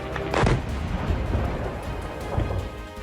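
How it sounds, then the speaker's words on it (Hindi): A heavy boom as a drone strikes a residential building in Kazan, Russia, bursts out near the start, then a rumbling, crackling aftermath follows, with a second, smaller thud later on. "ड्रोन के बिल्डिंग से टकराने के बाद बड़ा धमाका होता हुआ भी आप देख सकते हैं।"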